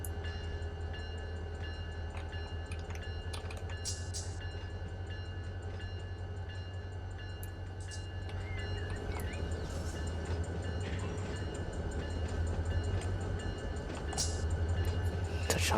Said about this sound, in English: I'm just going to back this train up, locomotives and all, onto the main track